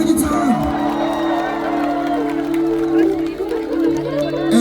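A concert crowd at a live show in Makassar claps and whoops beneath an announcer on the PA, while sustained instrument tones ring under the cheering.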